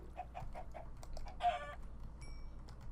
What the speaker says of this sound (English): I will hit you, chicken.